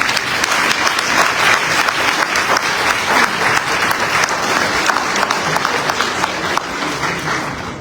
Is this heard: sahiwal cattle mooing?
no